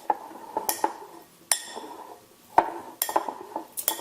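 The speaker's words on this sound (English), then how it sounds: "So I'm just going to mix this all together." A spoon mixing diced avocado and edamame salad in a bowl makes scattered clinks and scrapes, with a few sharper taps against the dish at irregular moments, close and fairly quiet.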